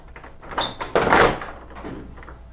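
The front door of a Toshiba 556/656-series copier swings shut with a brief scrape and squeak, then a solid plastic thud and a short rattle as it latches, close by, with no talking.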